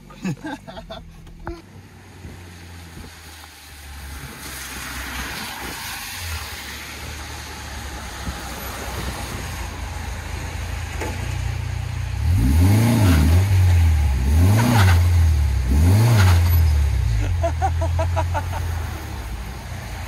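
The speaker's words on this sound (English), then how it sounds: "we're gonna see if Jimmy can get out of here in that S15. It's running" A Nissan S15 drift car's engine idles roughly at a workshop, then revs in three or four rising and falling pulls in the second half, with some background noise early on.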